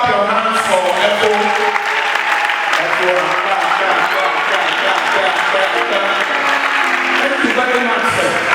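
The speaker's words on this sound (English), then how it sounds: "Why don't you clap your hands for Echo?" At a wedding ceremony, guests applaud as the bride's father stands, a full, continuous round of clapping holding steady from start to finish, with faint voices and a tonal sound mixed in.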